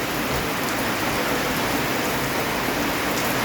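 Heavy rain pours down steadily, a dense, continuous hiss of drops hitting surfaces with no pauses and no voices.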